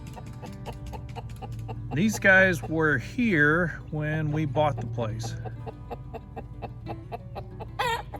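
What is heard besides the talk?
chickens clucking near their coop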